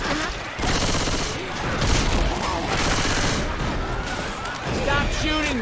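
Dense, continuous gunfire in the zombie shooter Left 4 Dead 2, with rapid overlapping shots and booms filling the whole stretch while a player's voice talks over it.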